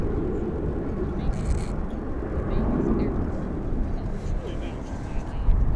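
An Airbus A321 jet arriving from Denver at Dallas Fort Worth airport, a broad low roar rumbling steadily in the distance under wind and faint voices.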